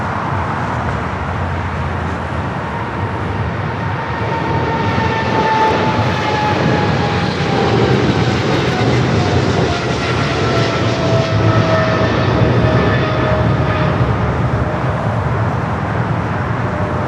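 A cargo jet departing Los Angeles LAX bound for the DHL hub at Cincinnati, a loud swelling jet roar with rising and falling whining tones, building then sustained, with faint road traffic beneath.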